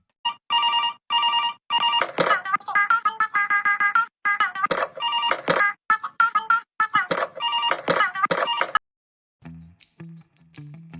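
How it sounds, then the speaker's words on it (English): A classic rotary phone from the Sprunki video game rings in rapid, bright metallic bursts, loud and close, repeating in stuttered patterns for several seconds before stopping, followed by a few lower tones. "Tele's instrument? A classic rotary phone."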